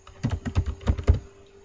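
Typing on a computer keyboard while a new Excel sheet tab is renamed, with about six quick, close keystrokes in a short irregular burst, then quiet.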